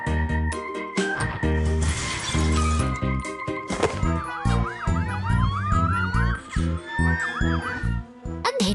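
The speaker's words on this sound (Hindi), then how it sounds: "पुलिस की गाड़ी शांत अंधेरे में हर आवाज को ध्यान से सुनते हुए धीरे धीरे गश्त करती है" A police car siren wails in a repeating rising and falling pattern, loud and close, over driving music and thumping hits.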